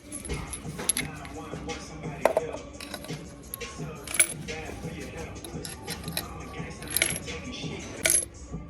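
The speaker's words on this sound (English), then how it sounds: "I'm gonna go ahead and gap these spark plugs down and get them in the heads." Spark plugs for a 2018 turbocharged Coyote V8 build are set with a metal spark plug gapper. The work makes a string of light, close metallic clinks and jingles at irregular intervals.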